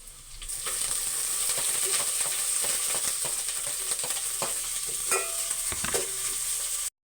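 Onions hit garlic already frying in a pan, setting off a loud continuous sizzle with occasional stirring clicks and scrapes, close up, before it cuts off abruptly; no talking.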